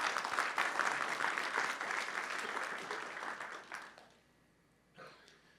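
A large audience applauds at a college State of the College event, dense steady clapping filling the hall for about four seconds before fading into quiet with a brief final burst.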